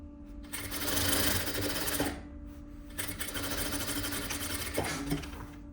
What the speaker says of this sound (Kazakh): Осылай мен машинкамен бекітіп қоямын.